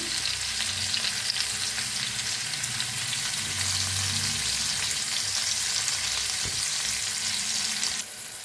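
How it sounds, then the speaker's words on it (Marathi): Finely pounded green chilies sizzle in hot oil in a pan for a potato fasting-day dish, a steady close crackling hiss throughout with no talk. "तेल टाकलं का त्याच्यात घाल्या मिरची जो बारीक कुटून घेतलेली आपण"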